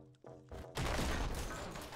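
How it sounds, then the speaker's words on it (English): A video game explosion in Anger Foot, set in sewers, bursts in as a loud, sustained blast after a few quieter thumps and clicks, rolling on with crackling debris. "that's just nice to get the explosion"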